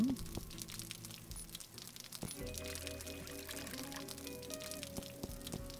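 Water pours into a glass in the Delores adventure game, a steady liquid fill lasting several seconds amid faint game ambience, with no talk over it.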